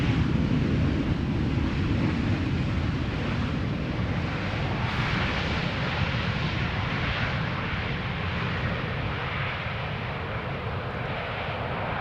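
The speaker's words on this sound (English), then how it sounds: "the old standard livery KLM 737 has just landed" Aircraft noise from a KLM Boeing 737 in the old standard livery just after landing at Amsterdam Schiphol, a steady broad roar with wind buffeting, continuous and fairly loud throughout.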